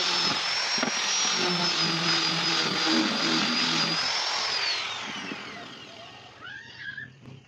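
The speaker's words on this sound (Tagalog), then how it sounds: "gamit po yung ating ginawang bagong sander, no, na grinder convert to sander" An angle grinder converted into a sander runs at a high, steady whine while sanding, its pitch wavering, then winds down and fades toward the end.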